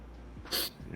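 A single short, sharp sneeze breaks out over quiet room tone during a casual tabletop role-playing game session, brief and fairly close.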